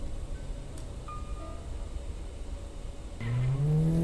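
A car engine in the video game Granny suddenly revs up loud and rising near the end, breaking a steady background hum.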